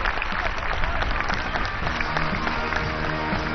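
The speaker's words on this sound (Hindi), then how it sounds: "दर्शकों से अनुरोध है कि इन जाबाज कमांडोज के लिए ताली बजाकर इनका अभिनंदन करें" An audience at the National Security Guard's 31st Raising Day celebration claps for the NSG commandos, a dense and steady wash of applause that carries on without a break.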